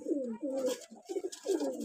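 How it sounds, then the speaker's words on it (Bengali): A pair of pigeons coo in repeated throaty bursts, close and fairly loud, with no talking. "পাখিগুলা দুষ্টামিও করছে, মারপিটও করছে।"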